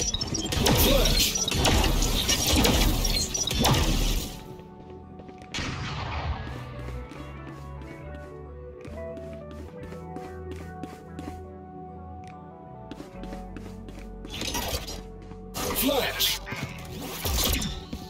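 A flash grenade goes off in a competitive shooter: a loud bang and bright ringing burst near the start, followed by a long decaying whine, with players talking and gunfire around it.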